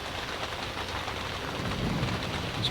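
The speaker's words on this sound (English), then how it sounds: "It's been pouring rain for hours." Heavy rain pours steadily around a boat during a fall storm, a dense constant hiss of drops with low thunder rumbling in the background, no voices.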